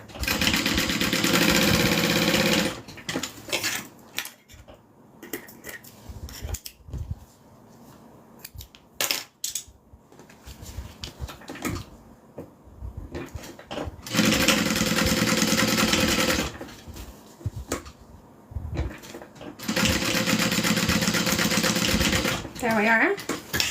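Sewing machine stitching accent pieces onto a bag gusset, with several loud bursts of rapid stitching separated by quieter stretches of handling noise and faint activity.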